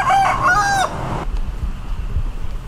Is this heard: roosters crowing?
yes